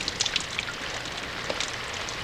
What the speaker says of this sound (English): Entranced by the sound of the rain pattering against the window, I fell into slumber.